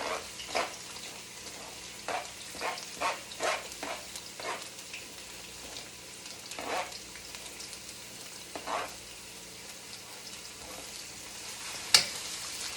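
Onions frying in hot oil in a pan, a low continuous sizzle broken by a run of crackling pops and stirring scrapes, close by, with one sharp clank near the end and no voices.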